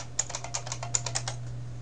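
Keys tapped on a computer keyboard while entering a password, about a dozen quick light clicks in an irregular burst, close and clear over a steady low electrical hum, with no voices.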